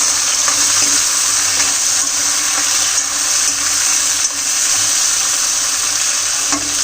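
Potatoes sizzle and fry in hot oil in a pan, a loud, steady, close crackling hiss running throughout with no talk over it.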